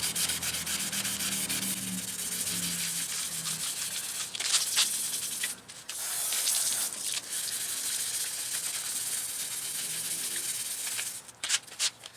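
Wet sanding of a car headlight lens with 1000 grit sandpaper, a steady close rasping rub that runs continuously with brief pauses and no talk.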